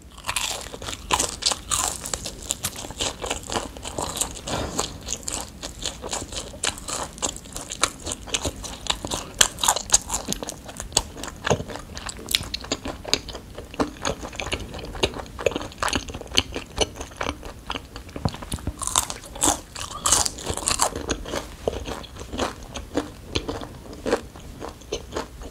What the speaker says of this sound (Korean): 닭껍질 튀김.